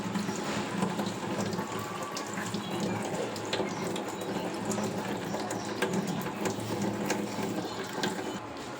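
Running tap water splashes steadily into a sink as chikoo (sapodilla) fruits are washed, a continuous close rushing and trickling sound with no talking.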